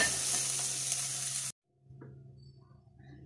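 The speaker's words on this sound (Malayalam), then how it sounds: "അതിനുള്ളിൽ നമുക്ക് കാഷ്യൂനട്ടും കിസ്മിസും വറുത്തെടുക്കാം." Cashew nuts and raisins frying in a pan give a bright, steady sizzle for about a second and a half, then it cuts off abruptly and faint stirring and scraping sounds follow.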